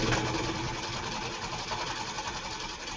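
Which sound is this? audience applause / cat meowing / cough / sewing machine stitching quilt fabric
sewing machine stitching quilt fabric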